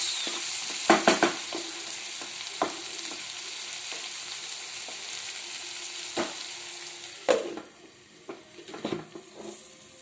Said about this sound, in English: Now fry nicely. By closing the lid.